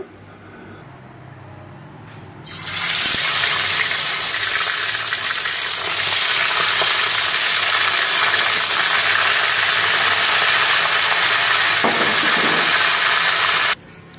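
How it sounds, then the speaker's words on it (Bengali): Loud, steady hiss of salted, turmeric-coated catfish frying in hot oil starts abruptly and holds evenly for about eleven seconds before cutting off. "এই মাছগুলো মাগুর মাছগুলো ভাজছি"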